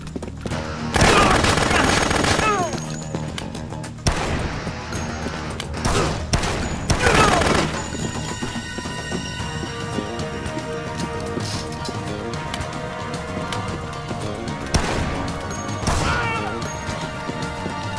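Video game gunfire from Dead Rising: loud bursts of rapid shots and crashing impacts in clusters, separated by game sounds and background music, with a voice talking at times.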